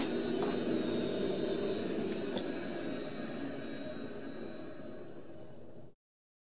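A three-phase drill press running on a VFD hums steadily with a high, constant whine over a broad motor drone, close and even for about six seconds before it cuts off abruptly.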